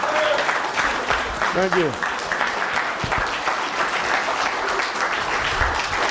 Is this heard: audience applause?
yes